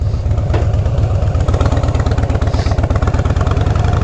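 A motorcycle fitted with Vance & Hines exhaust pipes and a fuel programmer idles close by, a loud, steady, lumpy low-pitched pulsing throb with a regular beat throughout.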